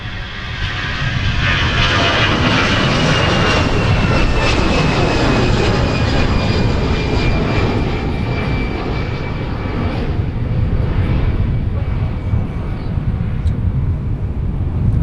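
An airliner lands on one of the parallel runways at Minneapolis–Saint Paul airport, its broad engine roar loud and continuous throughout, with faint whining tones rising above the rumble.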